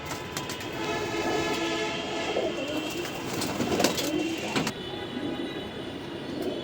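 Racing pigeons coo and flutter in a loft, a steady murmur of bird calls with occasional sharp clicks and wing sounds over a constant low background hum.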